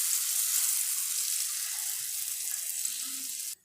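Rice roti frying in desi ghee on a pan, a steady close sizzle with fine crackle running evenly throughout before cutting off sharply at the end, no talking.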